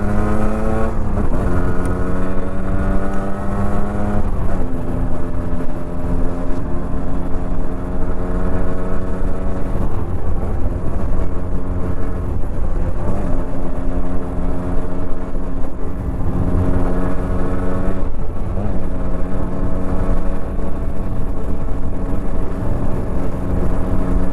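Engine of a Yamaha RXZ motorcycle converted to a five-speed gearbox, revving hard and loud close by, rising and falling through repeated throttle bursts with no talking.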